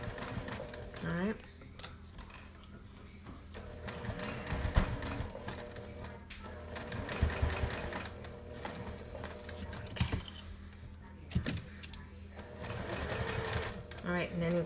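A sewing machine stitches over the pleats of a fabric nurse mask, rapid mechanical chattering in bursts that stop and restart, close up, with a person talking over it.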